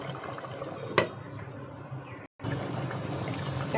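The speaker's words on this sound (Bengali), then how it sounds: "এভাবে নেড়ে নেড়ে দিতে হবে" Chicken korma being stirred in a cooking pot on the stove, a close wet scraping and clinking with one sharp knock, continuous simmering texture with a brief break.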